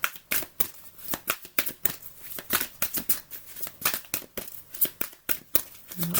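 Oracle cards being shuffled by hand, a quick run of crisp papery riffles and flicks at close range, steady and fairly quiet with no talk.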